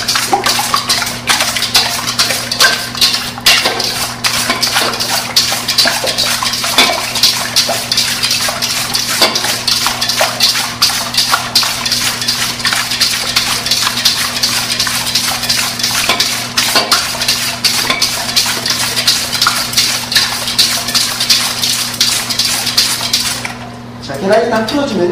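Eggs whisked by hand in a mixing bowl for jelly roll cake batter, a steady rapid rattle of wire against the bowl that runs loud and continuous for about 24 seconds before stopping abruptly.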